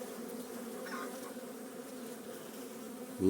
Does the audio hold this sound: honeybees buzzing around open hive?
yes